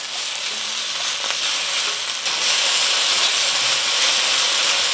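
Bean sprouts hiss and sizzle loudly in a hot wok as they are stir-fried for soy sauce chow mein, a steady, close, continuous frying roar with no voices.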